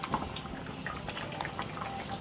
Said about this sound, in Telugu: చూసారా బాగా మరుగుతుంది